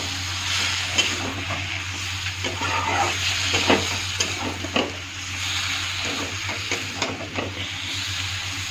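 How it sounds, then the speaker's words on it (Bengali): Large chunks of onion fry and get stirred in a pan, giving a steady loud sizzle with repeated scraping clicks of the spoon throughout, and no talking. "পেঁয়াজটা ছেড়ে দিচ্ছি, একটু ভালো করে নেড়ে করে নেব"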